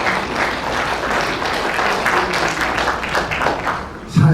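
Audience at a Korean community scholarship award ceremony clapping warmly, a sustained close burst of many hands with some murmuring voices, fading slightly before a thump at the end.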